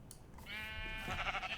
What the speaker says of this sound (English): Alright, sheep, you're with me.